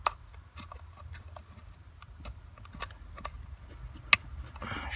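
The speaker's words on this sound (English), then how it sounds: "Should hear a click." A RaceChip XLR connector clicks into place at the gas pedal of a W204 Mercedes C180, one sharp click standing out among faint scattered ticks and handling noises in a quiet space.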